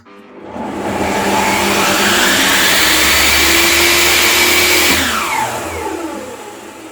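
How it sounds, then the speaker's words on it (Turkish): An electric motor driving a table saw, wired through a soft starter, runs up gradually from silence to a loud, steady whine, holds there, then its pitch sweeps down as it coasts toward a lower hum. "Gördüğünüz gibi yavaş bir şekilde çalışıyor motor."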